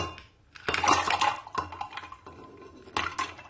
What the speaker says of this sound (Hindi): तो इसके अंदर अब मैं जो है बर्फ डाल दूंगी।